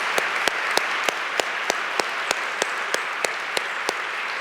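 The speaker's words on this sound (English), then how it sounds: "How about another round of applause?" Applause from an audience at a university presidential convocation: a steady wash of clapping with sharp regular accents cutting through, sustained and fairly distant throughout.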